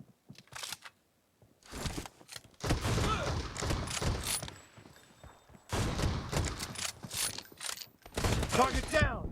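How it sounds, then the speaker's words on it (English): Shotgun action from the M1014 in the mobile game BGMI, with loud close bursts of firing and mechanical reload clacks in several separated groups, broken by short pauses. "Reloading!"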